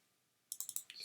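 A computer mouse clicks several times in quick succession while working in the Unity editor, sharp and close, following a near-silent pause.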